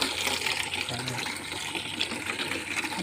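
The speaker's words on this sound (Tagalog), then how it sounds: "Lalagyan ho natin ng tubig para mahalo ho siya ng halo." Water gushes steadily into a cut gallon jug, a continuous splashing rush that stays loud and even throughout.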